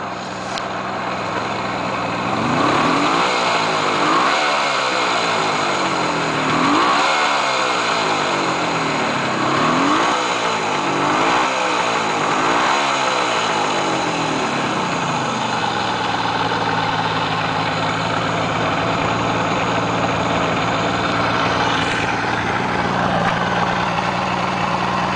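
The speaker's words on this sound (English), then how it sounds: "See, she runs pretty good, holds a good idle." A 1975 Suzuki GT750 motorcycle engine runs at a steady idle, then revs up and down in a string of blips before settling back to idle, close and moderately loud.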